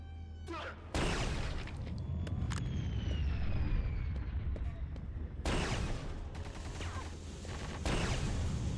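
Grenade launcher explosions in Quake II Remastered, a burst of heavy blasts with a rising whistle between them, followed by more loud detonations in quick succession.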